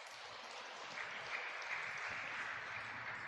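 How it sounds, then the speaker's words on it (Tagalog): Applause at a Lenten recollection gathering, a soft, continuous patter of many hands clapping, distant and fairly faint, swelling slightly midway with no clear speech over it. "palakpak pa kayo"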